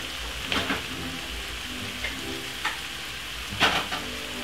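Caribbean stir-fried cabbage sizzling in a pan, a steady frying hiss punctuated by several brief stirring scrapes and clatters at irregular intervals.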